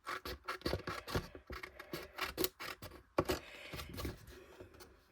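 Scissors cut through two sheets of paper glued together with a steady series of close, crisp snips and scraping rasps, each cut a short burst, continuing without pause.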